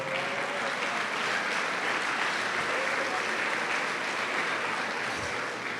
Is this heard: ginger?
no